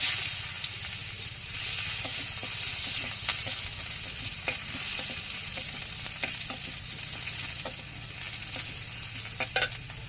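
Chopped onion fries in oil with kalonji seeds, a steady bright sizzle broken by sharp pops and occasional stirring clinks, close and without voices.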